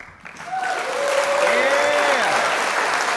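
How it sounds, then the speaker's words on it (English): Intensive clapping sound effect: a crowd's heavy applause swelling up after a quiet start and holding loud and dense, with faint cheering voices whooping over the roar. "Here's intensive clapping."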